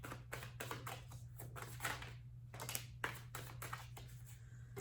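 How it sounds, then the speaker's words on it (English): Tarot cards being shuffled by hand, a run of quick soft riffling and tapping bursts that come close and fairly quiet over a steady low hum, with no voice. "These cards are not easy to shuffle."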